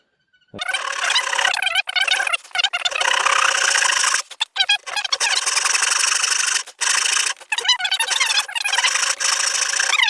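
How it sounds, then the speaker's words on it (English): Hand saw cutting through wood for a bowl-turning mandrel, loud close rasping strokes in a fast steady rhythm with a few brief pauses, no talk. "bring your saw nice and level down to the line"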